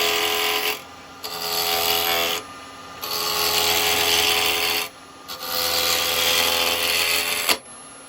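Wood lathe turning tool cutting into a spinning wood off-cut, a loud steady rasping scrape in three long passes separated by brief pauses, with no voice over it.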